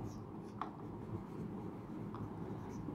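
Pen or chalk writing out a system of equations during a Hindi-language class 12 mathematics lecture on inverse matrices and linear equations, a soft continuous scratching with a few brief taps, fairly faint and steady throughout with no talk.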